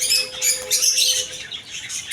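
Cockatiels, including albino and lutino birds, call in a bird shop with bright, overlapping chirps and squawks that come steadily and fairly close throughout.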